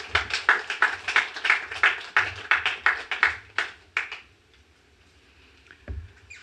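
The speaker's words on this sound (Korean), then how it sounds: "박수로 환영해 주시면 감사하겠습니다." Congregation at a Sunday church service applauding to welcome a guest preacher: a run of dense, rhythmic clapping that fades after about four seconds, followed by a brief quiet gap and a final faint thump.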